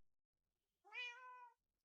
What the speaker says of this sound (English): This is Roy. Good kitty.